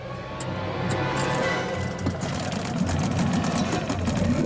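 Motorboat engine droning steadily during a race competition, a continuous buzzing rumble with faint voices in the background.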